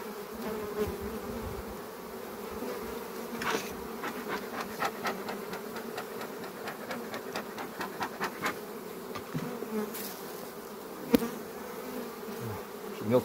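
Honeybees buzz in a dense, steady drone close by at an open low-frame hive, with occasional scrapes and knocks of handling mixed in.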